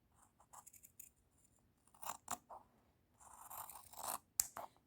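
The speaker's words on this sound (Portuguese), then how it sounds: "E com sua tesoura, você vai cortar, deixando uma pequena margem" Scissors cut through fabric for a rag doll pattern, giving soft, faint snips and scraping strokes in irregular bursts close by in a quiet room.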